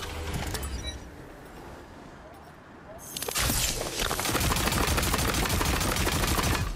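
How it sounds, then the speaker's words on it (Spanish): Gunfire from a warning shot in the video game Tiny Tina's Wonderlands. A quiet stretch with faint ambience breaks into a loud, dense burst of shots and clattering that continues to the end. "Se suponía que era un disparo de advertencia."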